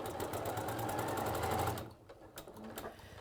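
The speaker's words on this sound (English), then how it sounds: "And then you just sew over your pieces." A sewing machine stitches a straight seam over lined-up fabric pieces, a steady, fast mechanical whir for nearly two seconds before stopping, followed by quiet handling noises.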